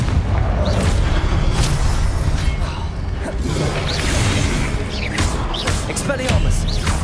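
Confringo blasting spells burst in rapid succession during Hogwarts Legacy combat, heavy booms and whooshing impacts with crackling debris layered over a dense rumbling battle din, near and loud throughout.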